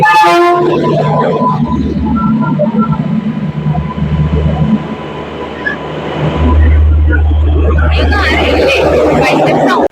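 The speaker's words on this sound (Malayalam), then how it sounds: "ഈ ട്രെയിനിലാണ് നമ്മൾ പോകുന്നത്. ഭയങ്കര സൗണ്ട് ഉണ്ട്." A train at an Indian railway platform, loud and close, with a short horn toot at the start and then a heavy continuous rumble and roar that deepens midway, with voices talking over it.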